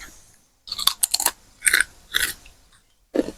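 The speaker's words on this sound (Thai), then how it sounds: "เดี๋ยวจะพามาชิม อันที่เราทอดไปแล้วนะคะ" Crunchy homemade fried banana chips, salted during soaking, being bitten and chewed up close: four or five sharp, crackling crunch bursts separated by short pauses, with no talk.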